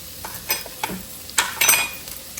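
Large onion pieces sauté in a pan for crock pot birria, a low sizzle broken by several sharp scrapes and clinks of a utensil stirring against the pan, close and with no speech.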